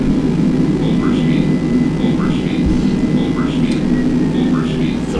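Airbus A320neo jet engines at full throttle in Microsoft Flight Simulator 2020 roar as a loud, steady broadband drone with a faint tonal whine, while a voice speaks over it.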